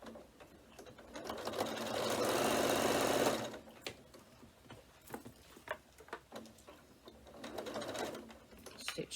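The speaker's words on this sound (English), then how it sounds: "Stitch all the way down." A sewing machine runs a long continuous stitch through fabric for a notebook, a loud steady whirring burst of about three seconds, then a pause with light clicks and handling before a second, shorter run starts.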